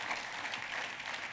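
A church congregation claps together in a brief, dense burst of applause, heard from a moderate distance in a reverberant room.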